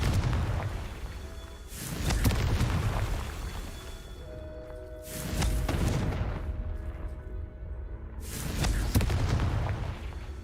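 Three heavy Confringo fire-spell explosions from Hogwarts Legacy go off a few seconds apart, each a loud, broad boom that rolls and fades before the next.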